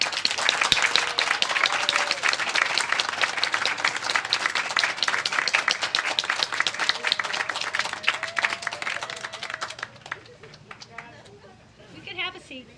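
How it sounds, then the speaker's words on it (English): Graduates' families and guests at a nursing pinning ceremony break into sustained applause, a dense crackle of many hands clapping that holds steady and loud, then thins out and fades near the end. "I think your family members deserve a round of applause."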